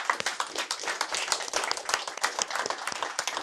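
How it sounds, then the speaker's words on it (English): A small audience gives a brief round of applause for a panel at a financial advice event, with distinct, crisp individual claps overlapping at a moderate level throughout. "So a round of applause for the panel."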